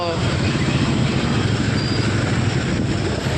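A train rumbles steadily past a railway crossing close by, a loud continuous roar of wheels on rails with no break.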